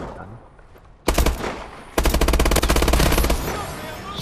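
Bal-27 rifle fire in Call of Duty: Advanced Warfare, the Elite variant with a standard magazine: a loud single burst, then a sustained rapid automatic string of shots that runs for about a second and a half before stopping.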